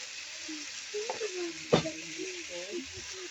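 Salted pancit is stirred in a frying pan, making a soft continuous sizzle with one sharp scrape of the utensil midway and a quiet voice faintly in the background.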